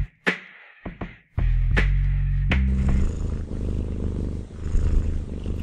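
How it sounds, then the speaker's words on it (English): A content, relaxed cat purrs in a steady, close, low rumble that settles in after a few sharp clicks and rustles, continuing alone without any voices. "cats purr when they're happy, when they're content, when they're relaxing, cuddling, snuggling"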